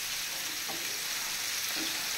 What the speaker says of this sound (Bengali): মাছটা আমার ভাজা হোক